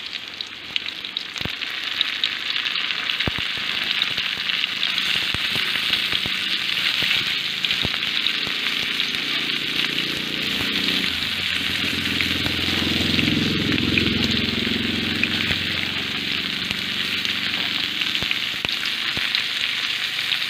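Onions sautéing in a pan, a steady loud sizzle and crackle of frying that runs unbroken for about twenty seconds, with occasional scrapes and clicks of stirring.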